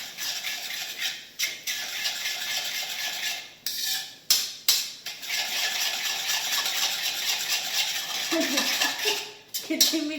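A metal spoon scrapes and clatters against a pan while poha is stirred with sugar in a home kitchen, in repeated rhythmic bursts with short pauses, close and fairly loud.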